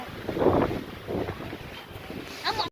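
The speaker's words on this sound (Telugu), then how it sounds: "అమ్మ చాలా గాలి" A strong gale blows through a village, bending the trees, and comes across as a roaring rush with heavy buffeting on the microphone that swells and eases in gusts.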